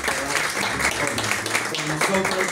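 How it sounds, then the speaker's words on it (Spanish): A theater audience claps for Marcela Girabert, a scattered round of applause running under a voice as he speaks over it. "Y un aplauso a Marcela Girabert"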